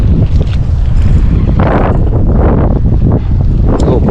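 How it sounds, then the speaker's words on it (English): Strong wind blowing beside a trout river in November, buffeting the microphone with loud, continuous low rumbling gusts that swell and fade, close and dominant, no voices. "A little breezy."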